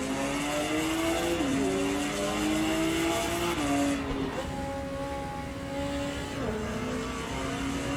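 Race cars in the Automobilista 2 racing game at Road America, engines droning loudly and shifting pitch as they accelerate and change gear, with several cars close together.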